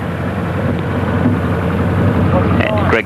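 A Datsun 1600 rally car idles and builds engine rumble at the start of a classic rally hillclimb stage, a steady loud low drone with a rising rev near the end, under a commentator talking.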